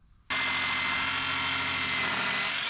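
A circular skill saw cutting an interior door starts abruptly and runs as a loud, steady, high whine through the rest of the clip, close by, with no speech.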